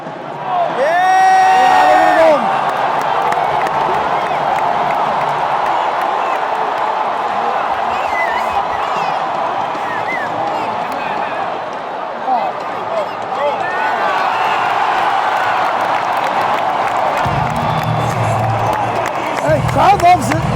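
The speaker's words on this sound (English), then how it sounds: "Crowd loves it." A crowd in an NHL hockey arena roars and cheers in a loud, sustained wash of voices with whistles and whoops rising over it, swelling again near the end, while people talk close by.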